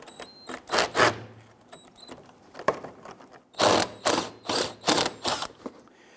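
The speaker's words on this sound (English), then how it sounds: "there's going to be a 10mm bolt. Loosen and remove this." A ratchet works a 10mm bolt on the lower front fender well liner of a Jeep Grand Cherokee, giving repeated close, sharp clicking bursts in an uneven rhythm with brief pauses between strokes.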